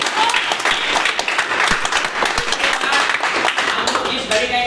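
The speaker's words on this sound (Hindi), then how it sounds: "आप लोग बहुत ही शानदार और जोरदार ताली बजाएं" Dense, sustained applause from a large audience at a company event, many hands clapping together at a steady loud level throughout, with a few stray voices mixed into the crowd noise.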